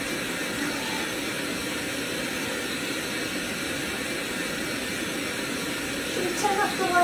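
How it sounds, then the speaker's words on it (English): Steady, broadband white noise hisses evenly throughout at a moderate level, played to soothe a baby, with a slight bump of other sound near the end. "turn off the white noise"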